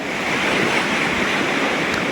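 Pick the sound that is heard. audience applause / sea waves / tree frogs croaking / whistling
sea waves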